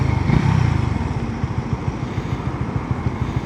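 150cc motorcycle engine running close by, a throaty rhythmic exhaust thump with a brief louder rev at the start, then settling into a steady pulsing idle with no talk.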